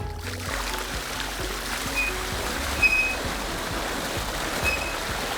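Water drains off flooded rice fields in the Mississippi Delta through water control structures with their boards pulled, a steady rushing trickle with splashing, moderately near and continuous, without talk.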